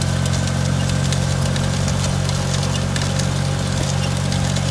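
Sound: small tractor pulling SZ-1.8 seeder with roller

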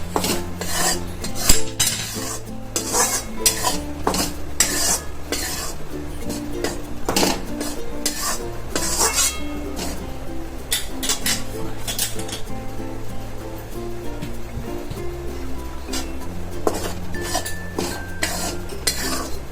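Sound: flour being dry-roasted and stirred in a pan for gol papdi

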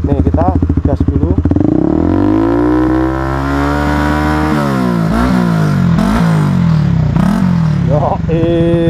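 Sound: Honda CBR150R revving with Tridente carbon exhaust

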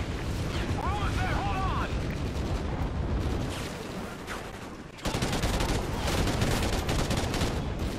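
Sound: gunfire in video game Call of Duty: Ghosts

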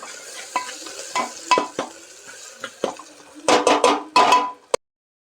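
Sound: sautéing onion with ginger garlic paste

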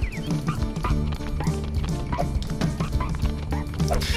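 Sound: little dog barking in Chicken Little video game

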